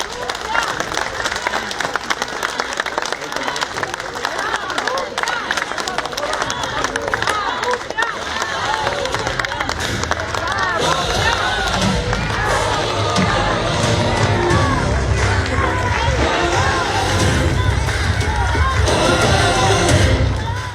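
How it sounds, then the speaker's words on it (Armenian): A crowd in Stepanavan, in Armenia's Lori region, greets an arriving guest with sustained clapping and cheering. Voices mingle throughout, and the applause swells louder toward the end. "Բարձր ծափերով դիմավորում են Գագիկ Ծառուկյանին"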